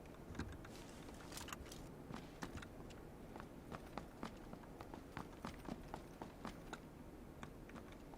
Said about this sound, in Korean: 앞에 발소리요.